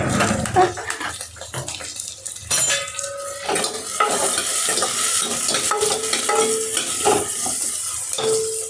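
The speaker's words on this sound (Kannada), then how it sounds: "ಇದು ಫ್ರೈ ಆಗೈತಿ ಈರುಳ್ಳಿ. ಇದ್ರೊಳಗೆ ಕಡ್ಲೆಕಾಳೆಲ್ಲ ಹಾಕೊಂಡೈತೆ." Onions and chickpeas frying in a pan, stirred with a metal utensil: repeated scraping and clinking over a continuous sizzle, close and fairly loud, with a brief murmur of voice.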